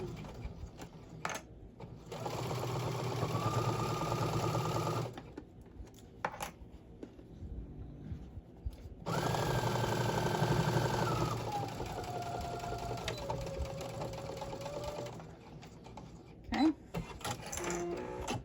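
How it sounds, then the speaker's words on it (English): Sewing machine stitching a mini tote bag lining in two sustained runs, a close, steady motor whir whose pitch shifts as the speed changes, separated by quieter pauses and handling noise. "after I sew this, I might cut it down 1/2 inch"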